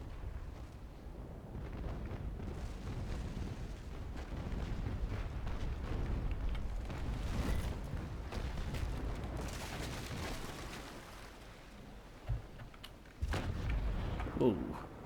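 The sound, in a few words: ship cannons firing in Naval Action video game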